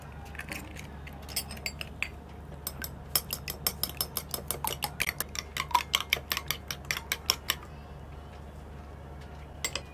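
Eggs being beaten in a bowl for a dhaba-style papad omelette, a rapid run of sharp clinking whisk or fork strikes against the bowl, steady and close, with no talk.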